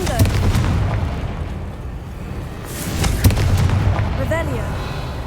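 Confringo fire spell explosions in the video game Hogwarts Legacy, two heavy booming blasts with rumbling tails about three seconds apart, loud and close over a low game ambience.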